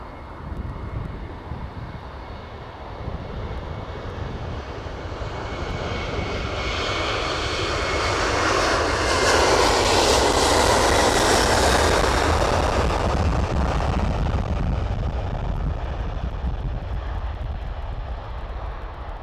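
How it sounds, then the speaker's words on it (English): Airbus A330 jet engines at Manchester Airport spool up for takeoff, a broad roar that swells to a loud peak midway and then slowly fades, with no talk over it. "Love the sound of those A330s. They're amazing, aren't they? Engines are phenomenal."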